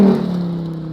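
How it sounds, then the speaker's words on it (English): Sports car engine on a race track warm-up lap, a steady droning whir that starts loud and eases slightly, heard alone without talk. "I love the sound of that car."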